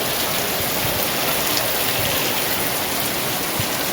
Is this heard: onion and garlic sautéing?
no